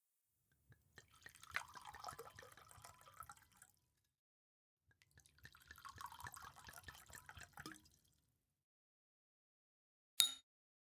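Homemade wine pours into a glass for a toast, two long gurgling, splashing bursts of liquid close by, followed after a pause by a brief sharp clink.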